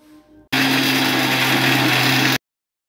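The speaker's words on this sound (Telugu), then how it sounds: "రవ్వ కూడా వేసుకుంటున్నాను. వేసుకొని గ్రైండ్ చేసుకోవాలి." A mixer grinder grinds semolina for biscuit dough, a loud, steady high-pitched whirring motor that starts abruptly, runs for about two seconds and cuts off sharply into silence.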